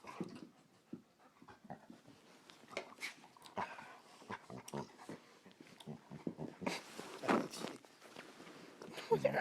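A puppy and an adult dog romp together with scrabbling paws, panting, soft whimpers and the odd bark, the scuffling growing busier and louder over time while a person talks now and then.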